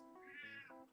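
A pet cat gives one clear, drawn-out meow, close by and alone, rising and then falling in pitch over about a second.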